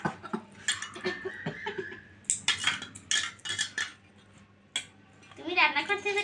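Toy pots, pans and utensils clink and clatter in uneven bursts during children's pretend cooking play, with quieter gaps between and a voice rising briefly near the end.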